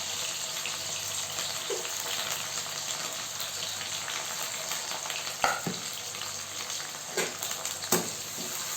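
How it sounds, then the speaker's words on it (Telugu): Onions and curry leaves fry in a pan with a steady, close sizzle that runs throughout, broken by a few sharp clicks and scrapes of stirring near the end. "బాగా ఎర్రగా వచ్చేలా వేయించుకోవాలా. ఆనియన్స్ వేగిపోయాయి."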